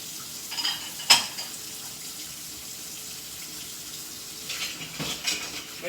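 Dishes being rinsed under a running kitchen tap before loading a dishwasher, with a steady low water hiss and a few clinks of crockery and cutlery, one sharp knock early on.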